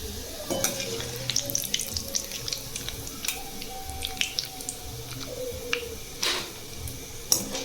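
Chivda ingredients lightly roasting in a pan, with soft sizzling and scattered scraping clicks from stirring, fairly quiet and close, without talk.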